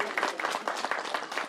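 Brief crowd applause at a village water-tank inauguration in Gujarat, a lively patter of many hands clapping unevenly, steady and moderately loud throughout.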